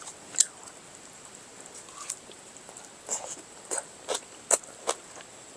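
Someone chews kimchi at a solo camping meal with boiled pork. Faint, close, crunchy bites and chews come in scattered bursts over a quiet background.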